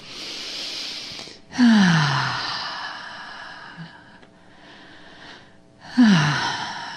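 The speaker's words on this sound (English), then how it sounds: "let's come all the way back into our bodies with a few deep breaths. Nice big inhales and exhales." Slow, deep human breaths during a group relaxation session: a long audible exhale, then a quieter stretch, then another big breath near the end, close and fairly soft with no talking.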